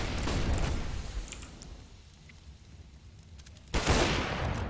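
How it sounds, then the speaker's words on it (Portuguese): Counter-Strike gunfire crackles in dense bursts at the start and again near the end, loud and close, with a quieter lull of mechanical creaks between. "Bom tiro do Maluk, mas já tem outro em cima"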